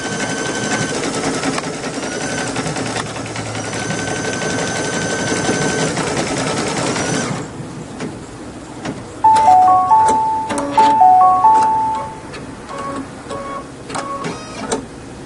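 A Brother BP2100 embroidery machine stitches a design with a busy, even mechanical whir, then shifts to quieter clicking and a few short electronic beeps.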